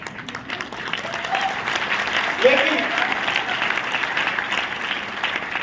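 An audience at a motivational team meeting claps together in a dense, sustained wash of applause that fills the room, while a voice briefly speaks over it.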